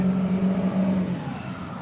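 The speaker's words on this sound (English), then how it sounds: "Watch out. Diesel trucks." A heavy diesel truck engine drones steadily nearby with a low tonal hum, fading slightly as the truck moves on amid road noise.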